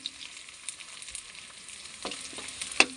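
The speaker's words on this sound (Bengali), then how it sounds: "আমার এখন পেঁয়াজটা ভাজা হচ্ছে" Onions frying in a home pan for biryani, a steady broad sizzle held at moderate level with a few brief clatters of stirring near the end, no voices.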